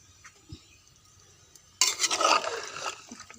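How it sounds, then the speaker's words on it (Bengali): Beef stew stirred and sautéed in a pot, a quiet scrape and clink at first, then a sudden burst of hissing sizzle as the stirring picks up, close and without voices. "এটাকে আবার চুলোয় বসিয়ে দিয়ে একটু ভালো করে কষিয়ে নেব"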